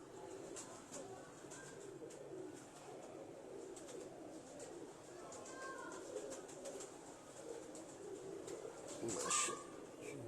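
Jugnu breed pigeons cooing softly in a steady background murmur, with faint bird calls and a brief louder flutter near the end, no clear speech.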